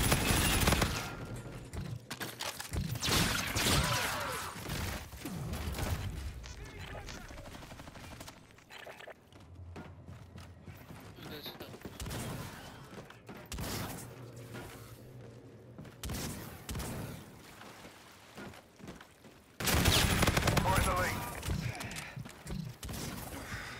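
Gunfire in a solo team deathmatch video game match, bursts of rapid shots and repeated volleys across the clip, loud at the start and again near the end, with quieter stretches between.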